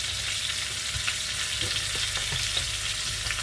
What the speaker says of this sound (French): Il faut bien la laisser griller la viande.